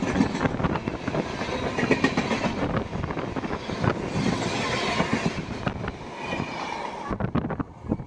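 The Tirupati–Kollam passenger express rolls along the rails, heard from on board as a loud, continuous rumble with rhythmic clickety-clack and wind buffeting, with no voices.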